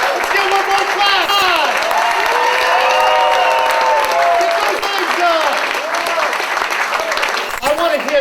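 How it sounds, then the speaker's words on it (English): Crowd of seniors and workers at an outdoor San Francisco union protest claps steadily for several seconds, with cheering voices and chatter mixed in throughout. "Let's get one more clap."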